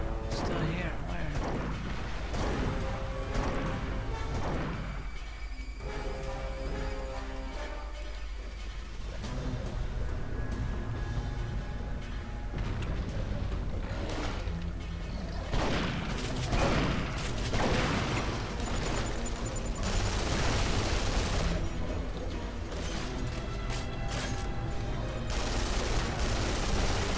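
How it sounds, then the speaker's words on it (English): Pipe bombs detonating during combat in Duke Nukem Forever, heavy booms and crackling blasts mixed with continuous gunfire and game music, with a voice talking over the din throughout. "How can he still detonate the fucking bombs?"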